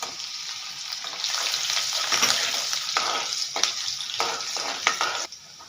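Finely chopped ginger and green chilli sautéing in a pan, a steady, close sizzle punctuated by several spatula taps and scrapes, then fading abruptly near the end.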